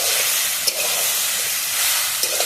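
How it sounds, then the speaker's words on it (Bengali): Shapla stems and masoor dal fry in a pan with salt, giving a steady, close sizzle and hiss with a few small pops and stirring clinks. "এখানে আমি ভালোভাবে সামলা ডাল কষিয়ে নেব।"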